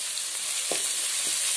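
Ginger, garlic and curry leaves sauté in hot oil for pork vindaloo, a brief, even sizzling hiss close by with a couple of soft stirring knocks.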